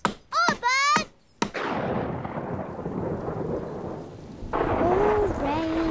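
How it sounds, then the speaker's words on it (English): Rain and thunder in a Miffy cartoon: after brief high voices, a long heavy rumble rolls in and settles into a steady wash of falling rain, with a character's voice returning near the end. "Oh, rain."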